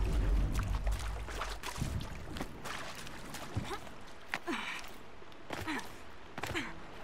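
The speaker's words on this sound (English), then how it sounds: "this is a waterfall, right?" A waterfall in Horizon Zero Dawn gives off a steady, broad rushing hiss, with faint breathy vocal sounds and brief tonal sweeps over the constant flow.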